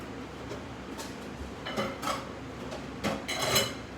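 Metal cutlery being rummaged in a kitchen while searching for a fork, with clinking and rattling bursts that grow busier toward the end, close and moderately loud, with no speech.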